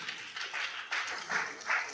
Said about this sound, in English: Another round of applause for our President.